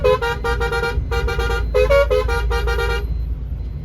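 Loud, close car horns honk in rapid bursts in foggy Delhi traffic, a string of short toots in groups over low road rumble, ending after three seconds to leave faint traffic noise.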